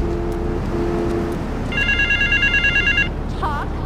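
A payphone rings in Grand Theft Auto 3: a two-tone electronic bell in short repeated bursts, mid-loud over steady background game ambience and traffic rumble, with no talking.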